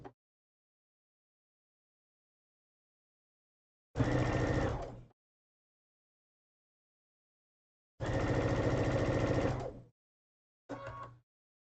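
A sewing machine stitching a progressive pride flag runs in three separate bursts, a long whirring run, a longer one and a short final spurt, with near silence between them.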